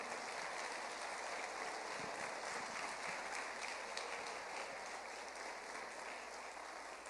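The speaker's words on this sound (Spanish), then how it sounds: "Denle ese aplauso a Jesucristo de Nazaret." Sustained applause from a crowd, steady and even throughout, heard at a moderate distance with a slightly hollow room tone.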